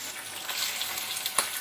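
Chicken pieces go into a pan of fried masala for a restaurant-style hariyali chicken curry, sizzling softly and steadily with faint crackles and a brief louder spatter near the end.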